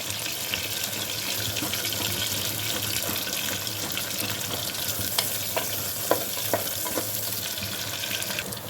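Onions frying in oil in a pan for a mutton gongura curry, a steady close sizzle with a few brief clinks and stirring knocks, no one talking.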